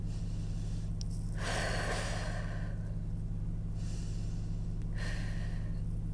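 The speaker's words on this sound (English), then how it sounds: "close the eyes and breathe deeply" Two or three slow, deep breaths taken with eyes closed, each a long soft airy inhale or exhale, close but quiet over a steady low electrical hum.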